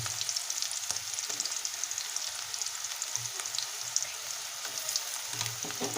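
Ginger garlic paste sizzles in a pan with cooked onions for a Tamil-style chicken curry, a steady crackling fry with occasional soft stirring knocks, close and moderately quiet.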